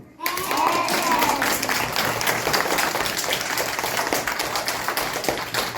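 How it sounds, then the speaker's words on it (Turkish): A burst of loud, sustained applause from a group, steady clapping filling the whole stretch after a brief quiet start. "O zaman öğretmenimizi çok güçlü bir alkışlayalım mı?"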